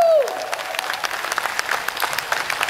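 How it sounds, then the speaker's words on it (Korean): Audience applause at an outdoor festival concert at the 2021 Hamyang wild ginseng anti-aging expo, a dense, loud wash of many hands clapping steadily after a brief sliding tone at the start. "박수 한번"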